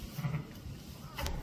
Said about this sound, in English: Good sized lamb.